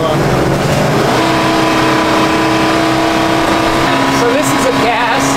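A Class A gas RV with a Ford 7.3-liter Godzilla engine accelerates with a loud, continuous engine drone that fills the whole stretch.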